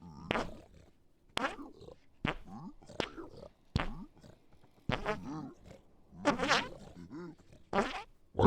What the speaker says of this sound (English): Why does the fart not sound deeper?